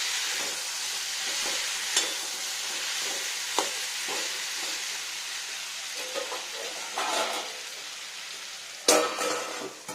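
Green pumpkin pieces sizzle steadily in a hot frying pan for a vegetarian curry, a continuous close crackle broken by a few sharp clicks and scrapes of stirring.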